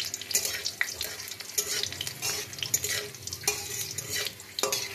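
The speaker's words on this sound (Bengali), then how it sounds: "রসুন কুচি দিয়ে দিলাম" Chopped garlic sizzles in hot oil while a utensil stirs and scrapes the pan, a steady close frying hiss broken by irregular clinks and scrapes, with no voices.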